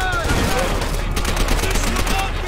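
Rapid gunfire from the video game Call of Duty: World at War, a dense continuous burst of shots with heavy low rumble and no clear breaks, loud and close throughout.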